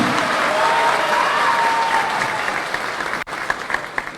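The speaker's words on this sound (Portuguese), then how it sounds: "Peço a salva de palmas a vocês" An audience at a political movement launch event in Amazonas applauds senators and local leaders, a dense continuous clapping that tapers slightly near the end, with a sharp brief knock partway through.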